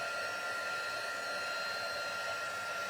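A craft heat tool blows hot air over a handmade card in steady, loud, unbroken broadband whooshing for the whole stretch, with no talking.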